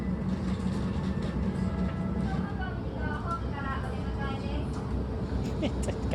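A passing train rumbles steadily and continuously with a faint rhythmic rattle, while people talk over it throughout.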